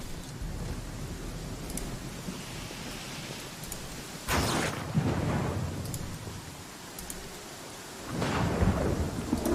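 Thunder rolls through a steady rain in the video game Pathfinder Kingmaker, with two heavy thunderclaps several seconds apart over the constant hiss of rainfall.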